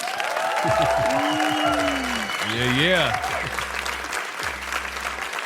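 Studio audience applause for a podcast guest at a one-year anniversary podcast episode, steady clapping and cheering under music and talking voices throughout.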